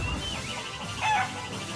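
Chickens cluck in the video game Shenmue III, a few close, loud squawking calls with a sharper burst near the end, and no talking.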